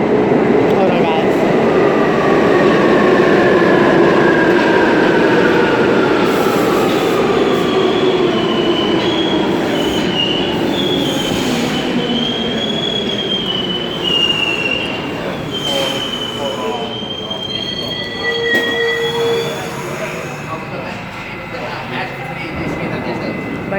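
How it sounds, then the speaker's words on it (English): A passing train with loud, sustained wheel squeal, shrill tones sliding and wavering over a rumbling rail roar that slowly fades over about twenty seconds, with a person talking faintly underneath. "Hold on, wait till the train pass."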